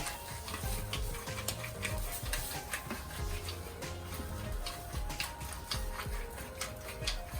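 A pepper mill grinds fresh black pepper over a pan of Italian mushroom risotto, giving a run of rapid, dry ticking crunches that repeat steadily against a low kitchen background.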